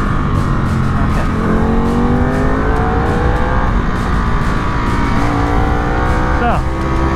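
A 2020 Ducati Superleggera motorcycle rides down the pit exit, its engine note loud and close as it climbs through the revs in rising whines, with steady wind and road roar throughout.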